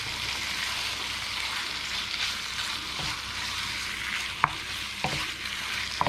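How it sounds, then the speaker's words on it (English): Beef strips fry in Balinese spice paste with a constant dense sizzle and hiss, close and moderately quiet, and a few sharp utensil taps and scrapes come near the end. No one speaks. "we're just going to throw all that meat in there, and we're just going to continue cooking that away"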